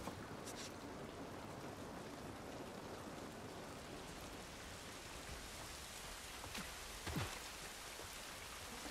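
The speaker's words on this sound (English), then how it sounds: "This rain ain't gonna do us any good." Steady rainfall in the video game The Last of Us Part I, an even broadband hiss of drops on surfaces that holds constant throughout, with a brief louder splash or thud near the end.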